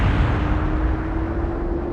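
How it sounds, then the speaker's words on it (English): An exploding cannon in the Skies of Arcadia Legends game produces a loud, dense rumbling roar with a steady low hum running through it, holding strong for about two seconds. "The explosion took out that whole area."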